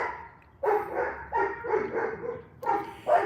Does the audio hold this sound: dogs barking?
yes